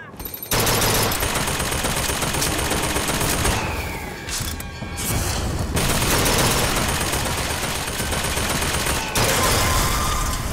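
Rapid carbine gunfire from Bioshock Infinite: dense, loud bursts of shots that run almost without a break and stop only briefly midway.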